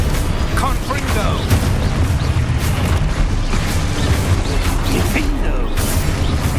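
Confringo blast spells in the Hogwarts Legacy video game, a dense run of loud booming impacts and crackling bursts that repeat rapidly, with combat effects and voices mixed in.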